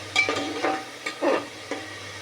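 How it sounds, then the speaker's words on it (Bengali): Onions frying in a pressure cooker, a soft sizzle broken by a few scraping stirs of a spoon, close and fairly steady over a couple of seconds. "পেঁয়াজটা একটু লাল করে ভেজে নেব।"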